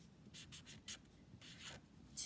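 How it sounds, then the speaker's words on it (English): A pen or marker writes a word by hand on paper in several quick, faint scratchy strokes with brief gaps between them, heard close up in a quiet room. "we could write the word 2"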